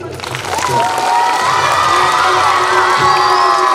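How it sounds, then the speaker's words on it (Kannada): Children at a school building inauguration ceremony clap and cheer together, a loud, sustained burst of shouting and applause from a crowd of young voices that fills the whole moment without pause. "ಮಕ್ಕಳು ಚಪ್ಪಾಳೆ ತಟ್ಟಿ,"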